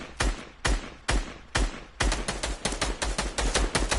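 FN SMX gunfire in a video game: four spaced single shots, then a fast burst of rapid, punchy reports, loud and close.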